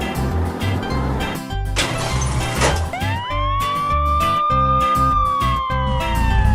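A cartoon black police car siren wails alone with a rising, looping electronic tone that swells and sustains over a busy, loud musical backing.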